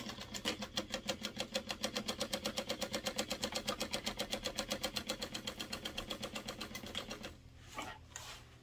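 A sewing machine runs a quarter-inch seam through waterproof canvas for a car trash can, a fast, steady, close-up stitching rattle for about seven seconds before stopping, followed by a few quiet handling sounds.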